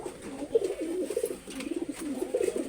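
A Pakistani prince kamager pigeon coos repeatedly close by, soft throaty rolling calls in a steady run with a faint background hiss.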